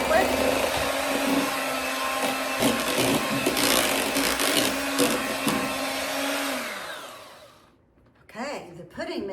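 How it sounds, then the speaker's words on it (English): An electric mixer whirs loudly and steadily through banana pudding batter with Cool Whip folded in, then winds down and stops near the end, leaving a brief quieter moment with faint clatter. "Let's blend that all together real quick."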